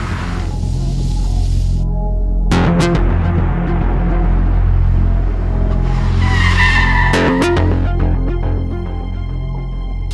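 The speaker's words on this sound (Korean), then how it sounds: "같은 속도로 젖은 도로를 달리다 급제동했습니다. 그러자 중심을 잃고 미끄러지는 자동차" A car brakes hard at speed on a wet road and slides out of control, spinning toward the side where a directional tire is mounted backwards; loud tire screeches and hiss of water spray over the engine noise.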